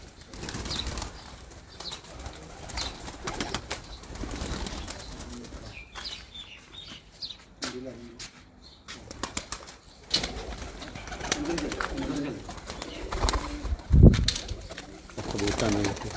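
Lakha breed pigeons, males and females kept by a Punjab fancier, cooing in their loft among wing flaps and shuffling, with intermittent nearby talking and one sharp knock.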